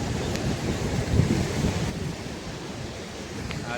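Sea waves wash against a coast beside a forest near a Mahadev temple, a steady rushing surge mixed with gusty wind buffeting the microphone, with no talking.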